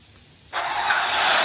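A car engine in the Free Fire video game catches after a short quiet stretch and keeps running as a loud, steady roar that swells slightly toward the end, with no voices.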